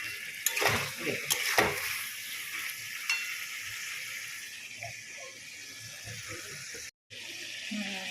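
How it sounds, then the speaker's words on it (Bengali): Spice masala for a meat and elephant-foot yam curry fries in oil, giving a steady close sizzle with a few early stirring scrapes and a brief gap near the end. "আমার মশলাটা মোটামুটি কষা হয়ে এসছে, তেল ছেড়ে যাচ্ছে মানে কষা হয়ে এসছে"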